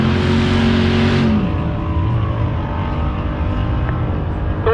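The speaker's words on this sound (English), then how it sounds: "The white Mustang gets there first" Mustang drag cars launch from the starting line in a loud, close engine roar that rises in pitch and then drops away into a sustained rumble, typical of a drag strip heads-up race.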